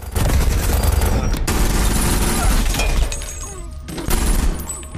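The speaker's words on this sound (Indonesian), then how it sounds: "Jacob berhasil mengambil senjata di bawah meja dan menembak Nathan" Gunshots in an action film sound as dense bursts of loud, sharp cracks and shattering impacts, layered with booming film-mix noise and a brief lull before another burst.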